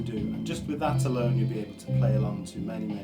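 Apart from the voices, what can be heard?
None of the usual background noises is heard.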